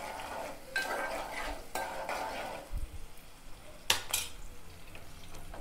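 Oil crackles and spits in bursts as chicken fries in a pan close by, with a few louder sharp pops and clinks of utensils stirring.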